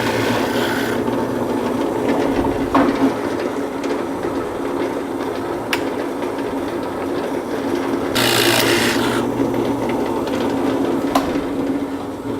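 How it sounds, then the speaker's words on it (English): An oak wood fidget spinner is sanded by hand, giving a steady close rasping rub with a few sharper scuffs and knocks and surges in intensity. "Now a bunch of hand sanding."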